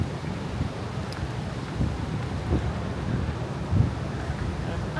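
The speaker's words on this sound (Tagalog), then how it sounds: "Sobrang hangin." Strong wind gusting outdoors near the Twin Towers in Malaysia, a steady loud rush of microphone buffeting with brief stronger gusts throughout.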